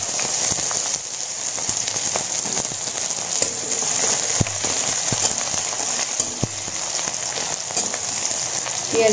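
Chopped onion fries in oil in a pan for a chickpea and pumpkin curry, making a close, continuous crackling sizzle dotted with sharp pops.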